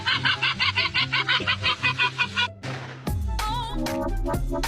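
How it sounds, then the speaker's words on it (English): A seagull gives a run of rapid, barking honk-like calls, about a dozen evenly pulsed bursts, loud and close, followed by a burst of louder mixed noise and calls. "I think my seagull barks."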